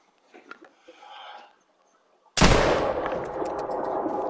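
A rifle shot in a bison-hunting video game cracks loudly and suddenly after a short stretch of faint murmuring, then rolls into a long echoing tail.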